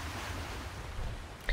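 A waterfall in the World of Warcraft Dragonflight game world near a crumbling life archway rushes as a steady broadband roar of water, constant and fairly loud, with a brief brighter tone near the end.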